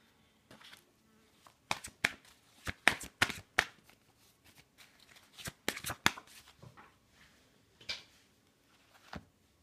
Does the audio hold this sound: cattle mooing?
no